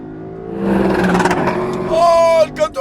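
A 2021 Lexus LC500 convertible revs its engine close by, a loud roar that climbs in pitch through a rising sweep and then drops off sharply at the end.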